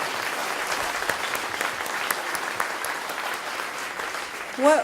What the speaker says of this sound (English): I want to ask for a warm round of applause for our speakers.